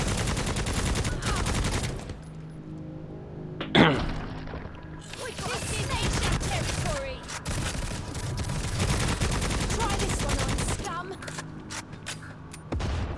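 Gunfire in the video game Necromunda: Hired Gun, with sustained automatic bursts rattling through most of the passage and a sharper loud blast near the middle, while someone talks over much of it.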